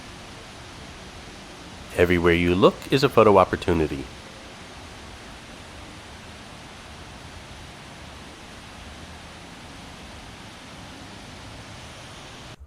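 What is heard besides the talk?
Wynn waterfall, Las Vegas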